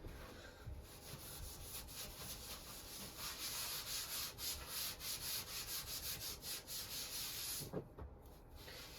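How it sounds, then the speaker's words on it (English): Rough abrasive side of a cheap kitchen sponge scrubbing floor tile in a 1976 Airstream, a steady rhythmic back-and-forth rubbing at close range that pauses briefly near the end, with no talking. "So I scrub with the rough side and then wipe with the smooth side."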